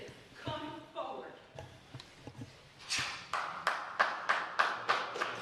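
An audience at a school board meeting breaks into a short round of clapping, a series of sharp, evenly spaced claps following a speaking voice, fairly close and moderately loud.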